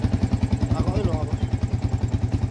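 A Yamaha Vixion motorcycle engine running at a steady, fast pulsing rhythm, close and loud, with a short rise in revs near the middle and a voice speaking over it.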